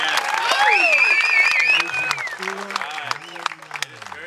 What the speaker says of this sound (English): You can tell the crowd is really pumped right, up.